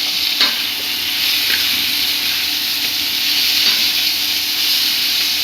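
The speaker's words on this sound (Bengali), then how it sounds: "আর সঙ্গে আমি মেথির সঙ্গে আমি দিয়ে দিচ্ছি পেঁয়াজ আর টমেটো আর কাঁচা লঙ্কা। এগুলো একটু নাড়াচাড়া করে তারপর সবজিটা দেব।" Fenugreek, onion, tomato and green chili frying in a pan, a loud continuous sizzle and hiss with occasional stirring scrapes, close and alone without talk.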